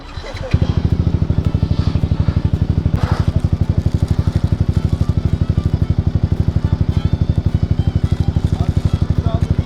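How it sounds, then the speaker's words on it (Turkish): Close motorcycle engine warming up, idling with a fast, steady, loud, throbbing pulse right after it catches, and a voice briefly heard over it. "Dur lan motor ısınsın."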